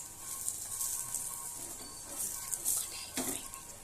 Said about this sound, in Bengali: তেল দিয়ে পরোটাটা ভাজবো